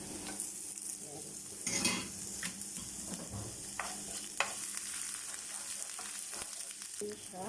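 Ginger sizzling as it goes into a pan while pancit canton guisado is being cooked, a steady frying hiss with a burst of sizzle near the start and a few scrapes and clinks of stirring, no talk.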